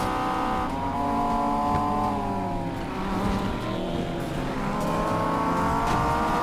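A car in Need for Speed Payback revs hard and climbs through its gears, a continuous loud engine whine that rises in pitch, drops at each shift and rises again, with no talk over it.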